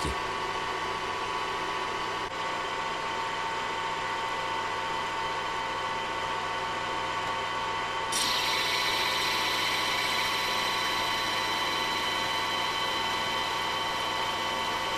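A metal lathe turns a workpiece with the automatic feed engaged, producing a steady loud motor hum and mechanical drone that shifts slightly partway through and then carries on evenly.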